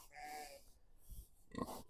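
Pigs on a farm on a stormy spring day grunt and oink in short bursts, a couple of close calls with a louder cluster near the end.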